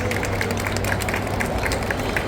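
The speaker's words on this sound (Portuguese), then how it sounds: "Por favor, uma salva de palmas." An audience at the Bienal do Livro 2025 applauds to welcome Attorney General Daniel Bucar, with dense, continuous clapping from a crowd filling the room at an even, moderately loud level.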